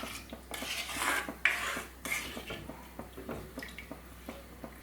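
A spoon scrapes and clinks around a pot as thin second-extract coconut milk is stirred into egg curry with mango, giving repeated close metal-on-pot knocks with a soft wet swirl beneath, no voices.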